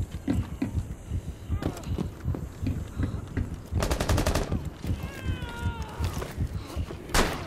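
Gunfire in Rainbow Six Siege on the Nighthaven Labs map: a rapid burst of automatic shots mid-clip and scattered single cracks, with people talking over it.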